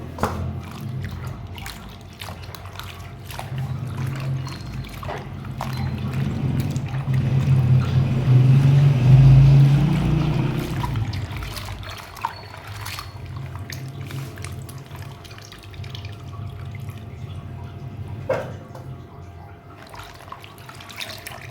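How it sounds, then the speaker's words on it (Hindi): Bitter gourd (karela) being washed by hand in a bowl of water, with close sloshing, swirling and dripping that swells in the middle, then gives way to lighter splashes and clinks. "मैं इस पानी में इसे वॉश कर लूँगी अच्छे से"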